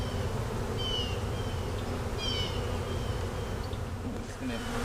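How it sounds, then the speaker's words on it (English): Honey bee swarm packed into a small box loaded with honey, giving a dense, continuous droning buzz, close and steady, with individual bees whining past on top. "It's a huge swarm for this little box."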